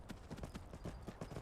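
Horse hooves clip-clop in a steady galloping rhythm through Skyrim, each footfall close and distinct, repeating evenly without any voices.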